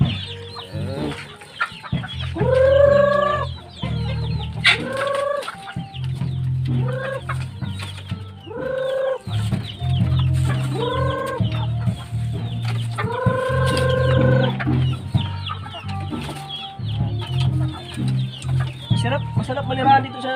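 Chickens raised in a rural Philippine province cluck and squawk repeatedly around a feeding spot, close and busy, with a rooster's calls mixed in over a steady low hum.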